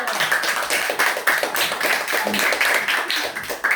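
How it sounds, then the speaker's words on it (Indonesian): A school class claps hands rapidly and continuously, a dense, lively patter of many claps close by with no talking. "Tepuk tangan dulu"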